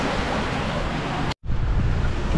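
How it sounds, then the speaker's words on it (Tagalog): Steady, loud rushing water from a strong canal flow, with broadband noise and wind buffeting, briefly cutting out before the roar resumes. "Malakas yung daloy ng tubig."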